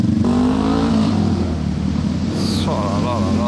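Bugatti Chiron supercar moving through the streets of Paris under police escort, a close engine growl rising and shifting in pitch beneath continuous talk.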